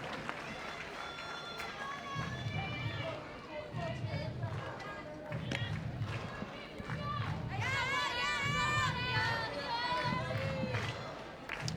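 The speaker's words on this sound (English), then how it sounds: "Very good crowd here on this Saturday afternoon." Crowd at a Saturday afternoon NCAA college softball game, Florida against Tennessee, murmuring and chattering steadily with scattered shouts, under continuous announcer-style talk and periodic low thumping.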